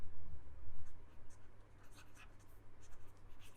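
Handwriting a word, probably pen on paper, a soft scratchy rustle of quick strokes close up over a low background hum, without any talking.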